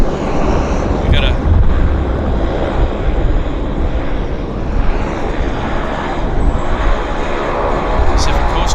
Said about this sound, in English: Pacific Coastal taxiing into the South Terminal.